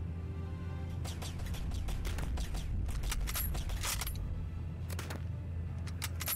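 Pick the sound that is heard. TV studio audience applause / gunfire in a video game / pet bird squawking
gunfire in a video game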